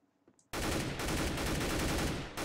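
Sustained automatic gunfire in the video game CS:GO bursts in after a brief quiet moment and continues loud and dense, rapid shots fired without pause.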